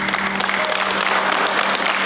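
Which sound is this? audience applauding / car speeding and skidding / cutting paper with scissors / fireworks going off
audience applauding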